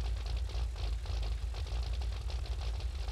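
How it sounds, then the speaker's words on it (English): A 1996 Chevy Impala engine idles in Forza Horizon 5, a deep, loud, pulsing low rumble with a regular lopey throb repeating throughout, close and with no voices over it. "Yeah, you hear that? That's the idle."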